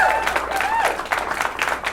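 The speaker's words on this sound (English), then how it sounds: "give them a round of applause" A poker tournament crowd at a casino applauds continuously, with a brief whistle rising above the clapping.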